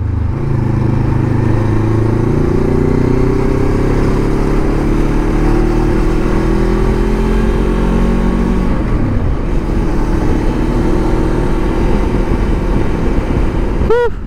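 Voge 525 DSX motorcycle cruising on the Skyway, a steady loud engine drone with layered wind roar throughout, a brief dip in pitch midway as the rider eases off, then resuming.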